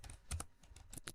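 Someone types on a computer keyboard while writing C# code: quick, irregular clicks and clacks at close range, with no voices.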